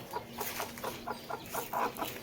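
A brooding hen clucking up close in a village yard, a quick run of soft repeated clucks, fairly quiet with no talk.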